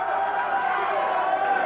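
Wrestling crowd cheering at a televised arena match, a steady roaring wash of voices and applause that stays loud throughout.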